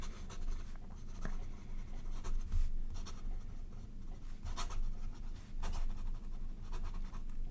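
A scarlet special-edition Lamy Safari fountain pen scratches across paper, writing the alphabet quickly, with soft continuous nib strokes and faint taps close by, no voice over it.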